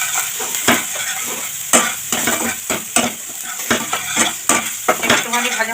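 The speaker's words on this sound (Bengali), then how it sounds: "একটুখানি ভাজা ভাজা করে নেব।" Chopped green chili and turmeric powder fry with grated ginger paste in a pan, a steady sizzle under repeated sharp scrapes and clinks of a spoon stirring against the metal.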